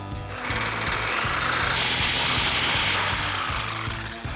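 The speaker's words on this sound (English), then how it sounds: "Now you want to cut behind the mount, basically into the bushing." A saw cuts into the rubber bushing of a Toyota Tacoma front lower control arm, a fast steady buzzing rasp that starts abruptly and runs continuously at close range.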